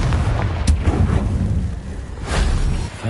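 A fiery Confringo blasting spell detonates in the Hogwarts Legacy video game, booming loud and close with a sharp crack near the start and a second rumbling burst later, its heavy low roar sustained throughout.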